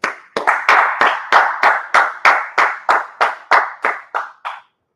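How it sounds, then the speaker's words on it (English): A class claps in a steady group rhythm, about fourteen loud, unified beats close by with no voices over them. "let's clap it up"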